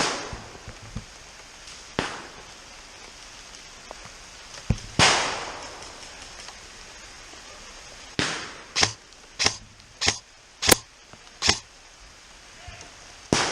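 Airsoft guns firing during an outdoor milsim event. A few scattered snaps are followed by a quick run of about seven sharp, close popping shots.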